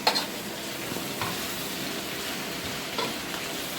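Peppers stir-frying in a hot pan for the Peruvian dish lomo saltado, alongside cooked beef, giving a steady close sizzle with a few scraping stirs and clatters, no talking.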